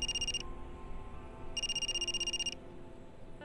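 A telephone rings in two bursts of a bright electronic trill, repeating rapidly, with a pause between them over a faint background hum.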